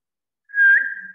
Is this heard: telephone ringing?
no